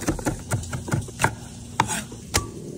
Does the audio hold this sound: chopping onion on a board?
yes